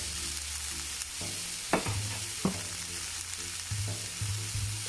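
Smash burger patty frying on a hot griddle, a constant crackling sizzle with scraping and stirring clicks from a spatula as the patty is flipped, close and steady.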